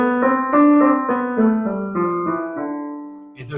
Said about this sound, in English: But this piece is written in the Dorian mode, which sounds like this.